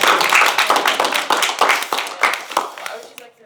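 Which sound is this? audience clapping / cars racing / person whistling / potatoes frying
audience clapping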